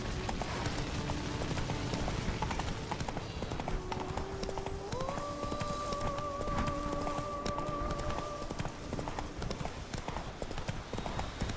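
Hooves of a galloping horse ridden in The Witcher 3 beat a steady, quick clip-clop rhythm throughout, with a sustained tonal musical line rising partway through over the hoofbeats.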